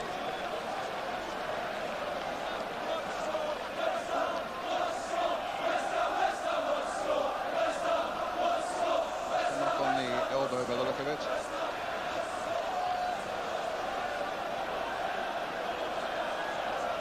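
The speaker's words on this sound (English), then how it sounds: "It's not often that the Newcastle crowd have been able to chant 4-0, 4-0." Newcastle football crowd in a 1986/87 First Division match against West Ham chanting a 4-0 scoreline, a rhythmic sustained roar of massed voices, with a commentator speaking over the top.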